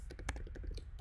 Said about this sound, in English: starting TabPy by simply typing